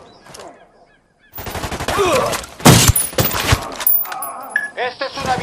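Gunfire from Ghost Recon: Wildlands, loud rapid bursts with dense cracks and a fusillade-like clatter, mixed with shouting and other voices.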